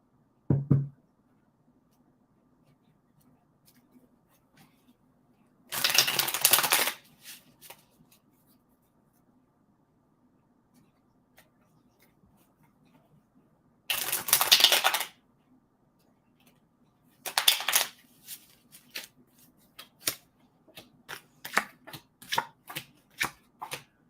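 A deck of cards is shuffled for a card reading in three separate bursts. Each riffle is close and crisp, and quiet pauses fall between them. Light tapping and handling of the cards follows the last shuffle, with no talk.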